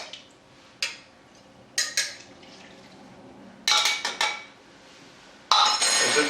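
A utensil scrapes and knocks against a pot while lasagna is made, giving several sharp, separate metallic scrapes and clanks with quiet pauses between them, close and fairly loud, with no talking.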